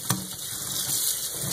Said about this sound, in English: now rinse it with cold water